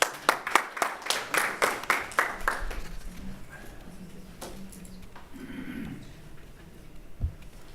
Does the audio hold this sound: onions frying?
no